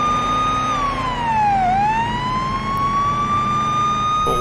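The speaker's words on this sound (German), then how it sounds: "Aber muss man blinken, wenn man die Sirene anhat?" A police car siren in the Police Simulator video game wails loudly and continuously, its pitch dipping and rising again, over a steady engine drone.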